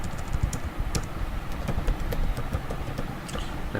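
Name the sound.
typing code on a computer keyboard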